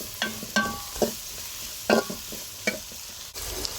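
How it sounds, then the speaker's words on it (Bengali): Prawn bhuna seasoned with salt is stirred in a pan. Several sharp spatula scrapes and clatters land irregularly over a soft, continuous sizzle, with no talking. "পরিমাণ মতো একটু নেড়ে দিব।"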